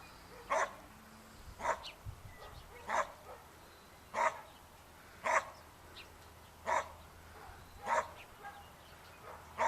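A dog barks while chasing a bird, sharp single barks repeating at a steady pace about every second, mid-distance and alone with no talk.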